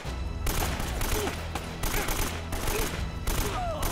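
Rapid gunfire in the video game Uncharted: Drake's Fortune as shots tear through a stone pillar, a loud, dense fusillade of repeated bursts filling the whole moment with brief gaps between volleys.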